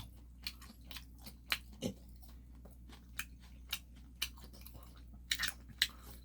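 Soft, wet chewing of straw-grilled pork belly, with irregular close bites and smacks over a low steady background hum, and no talk.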